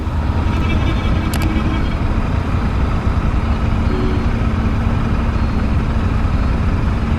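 A steady, loud Triumph Tiger motorcycle engine rumble drones throughout, low and constant like idling close by, with no speech.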